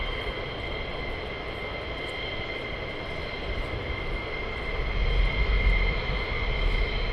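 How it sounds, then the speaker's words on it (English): An F-15 fighter jet flies at RAF Lakenheath, a continuous distant engine roar with a steady high whine, swelling a little louder near the end. "Oh, there's an F-15. Huh, that's not an F-35, that's an F-15."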